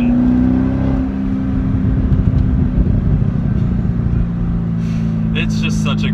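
A sports car pulls hard through the gears under manual shifting while cornering, its loud, steady engine note running close and continuous, with brief shifts in pitch as gears change and a voice talking faintly over it.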